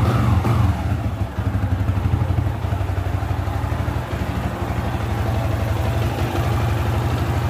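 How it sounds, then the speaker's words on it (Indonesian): Yamaha Vixion motorcycle engine idling after camshaft tensioner work, a loud, close, steady clattering putter with a rapid even rhythm, running alone without talk. "Teman-teman bisa lihat motor saya hidup."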